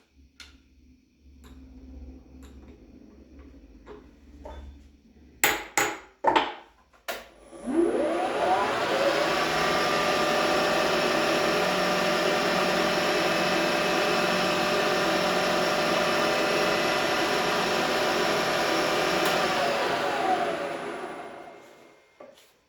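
A manual milling machine chamfers V blocks: a few sharp clicks and knocks, then the spindle spins up into a steady, loud whirring hum that holds for about twelve seconds before winding down.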